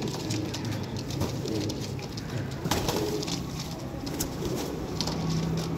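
Pigeons coo softly and repeatedly over a busy, noisy background, the calls blending into a steady low murmur.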